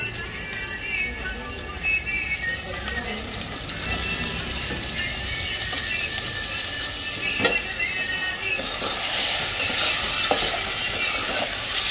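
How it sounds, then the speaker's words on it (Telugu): Half a kilo of pre-boiled liver goes into a hot pan and fries with a steady, bright sizzle, punctuated by stirring scrapes and clatters, loud and close, no voices. "నీట్గా కడిగి పెట్టుకున్న లివర్ వేసేసుకోవాలి."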